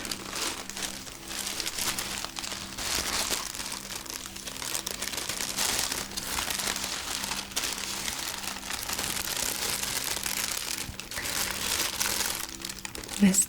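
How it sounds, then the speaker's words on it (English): Tissue paper saved from a gift crinkles and rustles steadily in close, soft ASMR-style handling, a continuous dense crackle with a slightly louder crunch at the end. "And I have this tissue paper."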